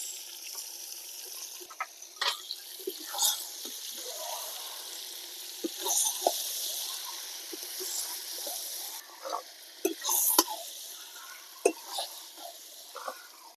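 Washed chicken pieces hit hot spiced oil and sizzle in a steady fry, with scattered pops and stirring clinks close up and no talking.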